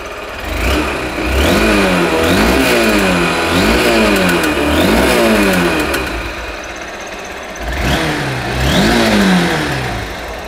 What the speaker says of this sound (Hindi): एक बार एग्जॉस्ट नोट आपको सुना दे रहा हूँ।